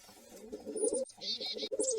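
Pigeon-like cooing and bird calls from sparrow, tit, pigeon and magpie in a children's bird-themed language game, steady chirps and coos continuing for about two seconds with no voices.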